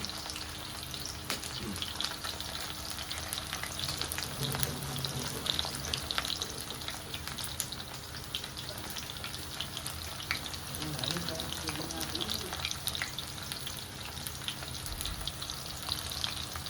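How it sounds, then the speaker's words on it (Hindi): Stuffed bitter gourd (karela) fries in a pan of oil, a continuous moderate sizzle and crackle like light rain that runs unbroken, heard close with no talking. "तो थोड़े से हो गए जी करेले फ्राई"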